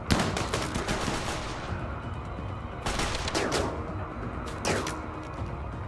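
Submachine gun fire from feral raiders in RimWorld, repeated bursts of rapid shots crackling across the whole stretch, with louder volleys standing out near the middle and toward the end.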